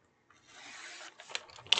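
A single sheet of 8.5 by 11 inch paper being trimmed down to 7 1/8 inches for an envelope, a soft dry rasping slide that builds over about a second, then a few sharp close snips and scrapes.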